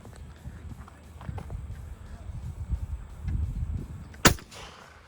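A single sharp, loud 12 gauge shotgun blast goes off near the end, after low rumbling handling noise and footsteps in an outdoor shooting setting.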